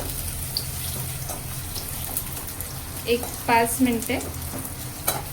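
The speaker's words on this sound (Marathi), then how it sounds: "तेल आपलं गरम झालेलं आहे. आता यामध्ये मी कांदा घालून घेते आहे." Onions sizzle and fry in hot oil in a pan, a steady hiss running throughout, with a few brief stirring clatters and a short spoken phrase near the end.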